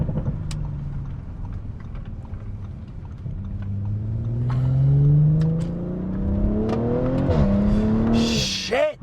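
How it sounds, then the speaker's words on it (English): A stage 1 tuned Audi RS5 B9.5 revs up through rising engine pitch, then blips and drops through downshifts with brief pops near the end, loud and close from inside the car, with occasional voices. "Listen to those downshifts"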